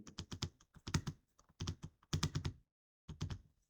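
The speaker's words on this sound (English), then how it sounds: "We will type enter business or resident here" Bursts of typing on a computer keyboard during Excel spreadsheet data entry, with clicky keystrokes in quick runs separated by short pauses, close and fairly quiet with no speech.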